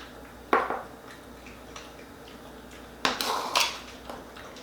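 A knife clinks against a dish while syrup is mixed into overnight oats, with two bursts of clattering, one early and one near the end, separated by quiet, close and moderately loud.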